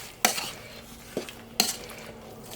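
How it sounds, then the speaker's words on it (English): Apple pie filling with cinnamon and a tablespoon of butter being mixed in a bowl: a few sharp spoon scrapes and clinks against the dish, spaced out over a quiet background with no talking. "And a tablespoon of butter. And we're going to give that a mix together."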